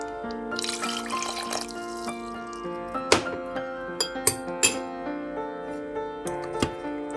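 Hot water pours into a metal pressure cooker of mutton curry with a ringing, rising tone as it fills, followed by a few clinks and drips.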